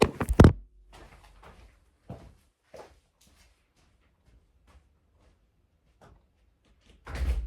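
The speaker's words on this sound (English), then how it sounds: "I need to unlock the back door." A back door is unlocked and opened, starting with a loud close clunk and rattle, then a few faint scattered clicks and knocks in near silence, and ending in another burst of handling noise.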